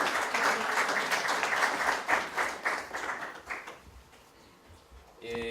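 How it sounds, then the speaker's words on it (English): An audience at a forum on internet accessibility and affordability applauds a speaker leaving the podium; dense clapping that thins out and tapers away over several seconds, with a brief tonal sound at the very end. "Shall we give him a round of applause?"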